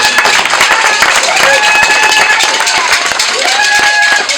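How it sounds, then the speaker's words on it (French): An audience at an evening new-year greetings ceremony with a minister applauds, dense, continuous clapping from a crowd heard close and loud, with some voices in the background. "Et je voudrais qu'on applaudisse ce soir."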